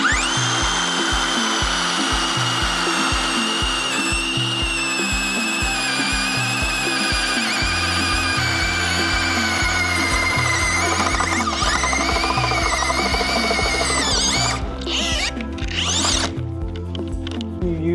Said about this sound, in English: I'm gonna be using my 7-inch power planter auger and my DeWalt drill